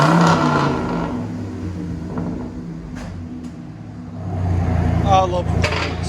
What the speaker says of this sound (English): I love standard transmissions. They make exhaust sound so good.